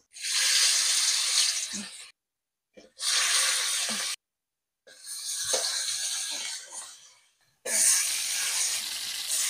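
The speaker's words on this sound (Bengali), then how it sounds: "এবার একে একে ইলিশ মাছগুলো ভেজে নেব।" Hilsa fish fry in hot mustard oil in a kadai, giving loud, close bursts of hissing sizzle that stop between pieces.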